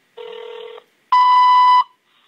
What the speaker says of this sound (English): You'll hear it beep here in a second.